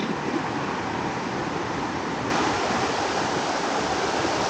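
A river rushes through the forest of Silent Valley, a continuous broad roar of flowing water, steady and fairly loud with no other sounds over it.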